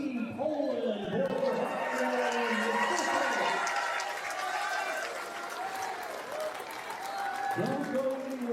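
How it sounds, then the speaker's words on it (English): An arena audience at the Predator WPA Teams 10-Ball World Championship final claps steadily for Team Poland, with crowd murmur underneath and an announcer talking over the applause. "And one more round of applause too for Team Poland."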